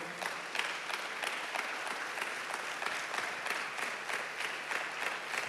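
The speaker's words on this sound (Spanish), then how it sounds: "Dele palmas al Señor." A church congregation claps together in sustained, dense applause filling the room, steady and even throughout with no voices standing out.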